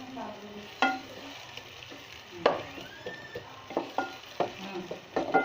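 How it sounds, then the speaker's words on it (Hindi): Onions and tomatoes frying in a pan for a mixed vegetable handi, a low sizzle beneath repeated sharp stirring knocks and scrapes that come faster toward the end. "अब हम बहुत अच्छे से भूनेंगे प्याज और टमाटर"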